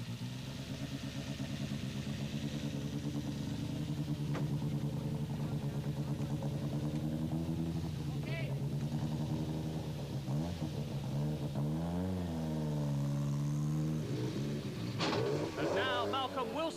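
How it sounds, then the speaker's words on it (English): A Peugeot-era Group B rally car pulls away from the start of a Monte Carlo Rally stage in 1986, its engine revving and rising in pitch as it accelerates, fairly loud beneath a commentator's voice. "And now Malcolm Wilson leaves, 7th, but with a dodgy transmission."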